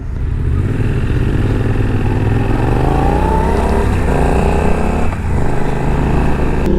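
Suzuki V-Strom 800DE motorcycle ridden through town on a new, still-breaking-in bike, its engine droning steadily and loud up close, with revs climbing midway and a brief dip before pulling on again.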